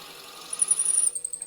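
A drill bit bores slowly into dry wood while making a twig pot, a faint high whine with soft scraping pulses for about a second, close and quiet.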